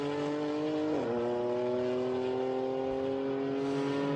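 BMW GT4 race car at Spa during free practice, a loud sustained engine note that dips sharply at an upshift then holds steady, close and alone without talk.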